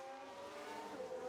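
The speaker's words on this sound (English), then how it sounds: "Ooh, that's a proper spin." A Formula 1 car in the F1 Manager 2022 racing game spins out, a sustained squealing tire screech with engine tone, steady and fairly loud for its short length.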